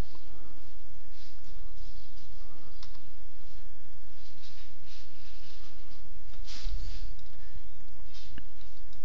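Sparse mouse clicks, loud and close, sound while a spline is edited in a Farming Simulator 2013 milk-truck tutorial, standing out from a steady noisy hiss with no speech.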